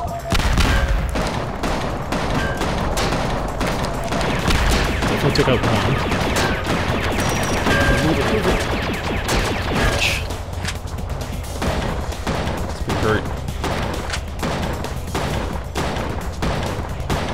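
Nail gun in the video game Cortex Command firing in rapid bursts of sharp cracks and impacts, with someone briefly talking over the gunfire.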